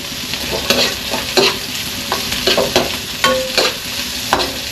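Onions and spring onion stalks sautéing in a pan, a steady close sizzle broken by scraping stirs and clinks of a utensil, with no talk.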